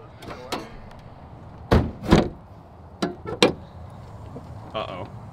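Ford Ranger truck door closing: two solid thumps close together, followed by lighter knocks and a further muffled clunk, heard fairly close with some background noise.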